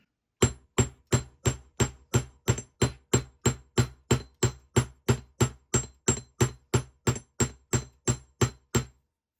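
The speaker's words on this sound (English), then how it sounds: "we're just hammering this section." Steady, evenly spaced hammer blows flattening jewelry wire for earrings, about two dozen sharp metallic strikes in a regular rhythm, close and loud with no talking.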